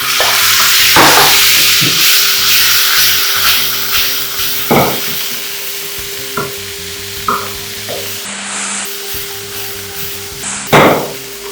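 Prawns are dropped into a pan with browned onions and stirred, giving a steady loud sizzle with scraping spatula strokes and a few sharp knocks. No voices.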